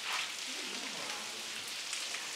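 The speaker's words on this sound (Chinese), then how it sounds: "这个雨越来越大了，已经变成大雨了。" Heavy rain pouring down steadily around a centuries-old rural courtyard compound in Sichuan, a dense continuous hiss that holds at an even level throughout with no distinct individual drops.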